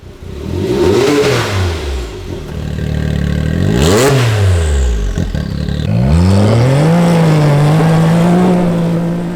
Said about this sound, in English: Check out these sound clips to get an idea of just how awesome the MBRP Active Exhaust is.